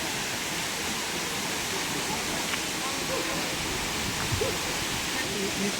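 Katibawasan Falls on Camiguin Island pours in a dense, unbroken roar that fills the whole scene, steady and close, with no other distinct sounds rising above it.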